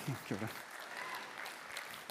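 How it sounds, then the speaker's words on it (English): A brief spoken word opens, then scattered audience clapping continues quietly in the background, light and diffuse, during a talk on Māori economics. "A clap instead of a laugh"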